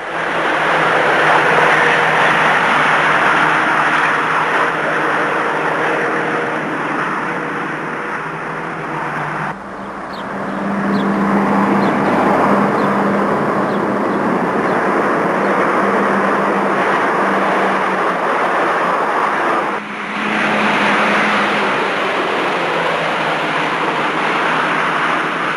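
1984 GTI hot hatchbacks running flat out on the banked Montlhéry speed ring, a continuous loud roar of engine and wind with two brief dips in level, no voices.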